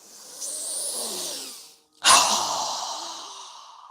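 A deep breath during a yoga practice, a long airy inhale followed after a brief pause by a fuller, forceful exhale through the nose, close and clear with no talking.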